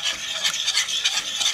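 A utensil scrapes and rubs rhythmically against the bottom of a pan of tomato sauce, lifting crispy browned bits in quick repeated strokes, close and steady with no talking.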